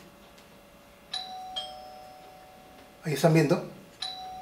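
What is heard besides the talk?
doorbell ringing, triggered by a smart switch button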